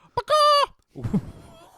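A wrestling commentator imitates a rooster crow at an NWA Starrcade 1987 broadcast, a short nasal crowing wail from a human voice, followed by low chatter.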